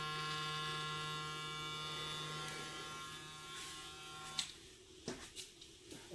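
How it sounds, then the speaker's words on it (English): A cordless lithium-ion BaBylissPRO FX880 two-speed hair clipper trimming a coarse beard: a close, steady electric buzz with a bright whine, then it cuts off, followed by a few soft handling thumps and clicks. "the tools I use today are the BaBylissPRO FX880, our flash effects, two speeds"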